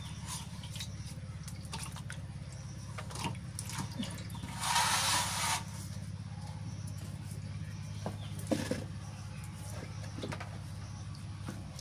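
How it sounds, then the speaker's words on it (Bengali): Hilsa fish being rinsed in clear water gives quiet drips and soft handling, with one brief splashing rush midway and a few small knocks. "নিয়ে এখন এই যে টলটলা পানি দিয়ে ধুই"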